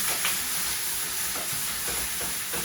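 Beef short ribs sear in a hot pan with a steady, dense sizzle, punctuated by occasional stirring or shifting scrapes; close and continuous, with no voices.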